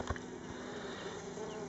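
Honey bees buzz densely on a frame lifted from a hive holding swarm cells and larvae, a close, continuous hum with a few louder passes.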